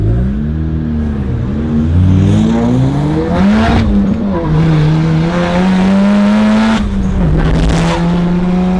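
Cars race and rev hard, engines climbing and dropping in pitch through gear changes, loud and close, with a couple of sharp bursts as they pass.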